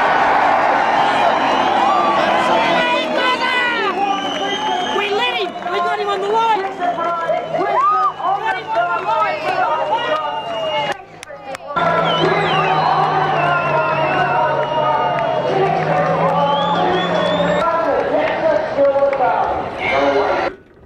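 Spectators roar and cheer loudly and continuously at a 1998 doorslammer drag racing final, with whoops and a dense crowd wash that briefly drops out near the middle, while excited voices shout over it.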